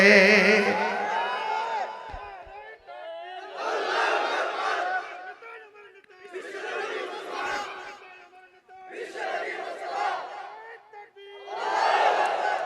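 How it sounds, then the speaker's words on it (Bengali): A large crowd at a Bangladeshi Islamic religious gathering chants slogans in loud, rhythmic bursts, each call swelling and fading in repeated waves, with a leader's voice opening the sequence. "আর স্লোগান তোলে"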